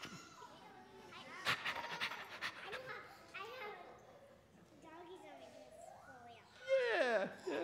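A group of children and adults pant and huff like puppy dogs during a Palm Sunday church gathering, voices imitating the rapid breathy panting with chatter and laughter mixed in, louder near the end.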